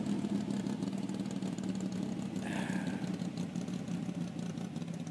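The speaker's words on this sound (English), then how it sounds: "Hear the stumble of the camshaft?" A car's engine idles close by with a lumpy, uneven camshaft stumble, its low rhythmic chug steady throughout, with no one talking.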